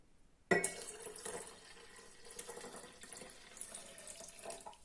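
Boiled water splashes steadily into a jug, starting abruptly and continuing as a soft, even pour for several seconds.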